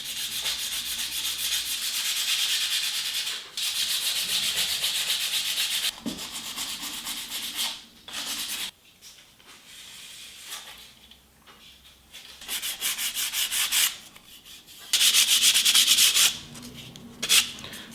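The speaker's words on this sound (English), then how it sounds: "So I've got myself a little square of sandpaper." Hand sanding of an oak edge with a small square of sandpaper produces bursts of dry scratchy rubbing strokes, stopping and starting with short quiet pauses between passes, close up.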